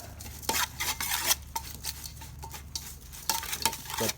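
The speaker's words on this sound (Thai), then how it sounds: "เอาละ คนเลย" A spoon stirs Thai chicken larb salad in a bowl, making repeated clinking scrapes and soft wet mixing sounds at a quick, uneven rhythm, close up with no talking.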